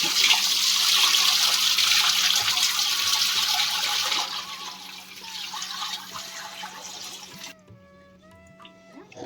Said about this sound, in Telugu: మంచిగా రైస్ని కడిగేసుకోవాలి